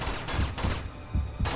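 Pistol gunfire in the video game Uncharted 2: a rapid string of loud, sharp shots crack out in bursts over a dense, noisy in-game background, with no voices.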